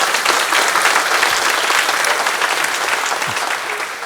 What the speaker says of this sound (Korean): 우리 또 한 박수 합시다